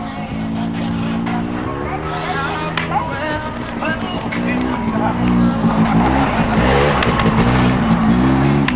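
A car engine revs and hums steadily while a learner drives with a manual clutch, the pitch rising and falling through shifts, with voices talking over the engine throughout.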